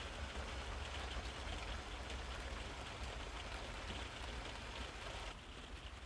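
An electric kettle boiling water gives a dense, steady rumbling hiss, close and continuous, easing slightly near the end.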